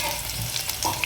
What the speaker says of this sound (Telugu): ఇప్పుడు ఇందులో పోపు వేసుకోవాలండి.